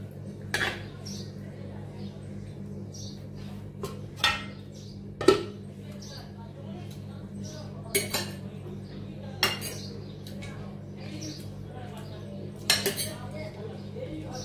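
Cutlery scraping and clinking against dishes during a home meal, scattered sharp clinks spread through the clip over a steady low hum, with a few faint bits of background voice.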